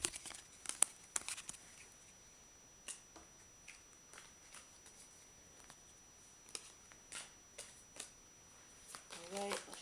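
Soft riffling and crisp snaps of a tarot deck being shuffled, in irregular bursts against a quiet background, fairly close.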